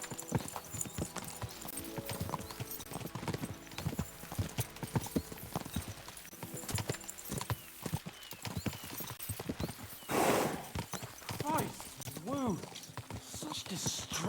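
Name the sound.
horses galloping, hooves clip-clopping, in video game Kingdom Come: Deliverance II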